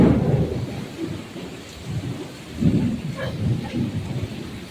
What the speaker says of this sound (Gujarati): હવે નેક્સ્ટ લેવલ વરસાદ આવ્યો જોઈ લ્યો